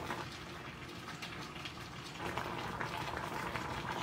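Griot, Haitian pork, boils in a pot of water with faint, steady bubbling and simmering, growing slightly louder partway through, with no talk over it.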